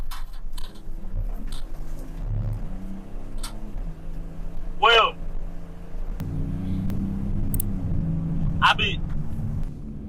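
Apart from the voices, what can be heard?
police car driving after a U-turn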